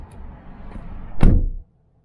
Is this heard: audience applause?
no